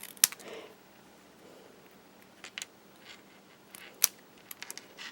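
Scissors snip around a stamped word on card paper: a few crisp, close cuts, one near the start and a quick cluster later, separated by near silence in a quiet room.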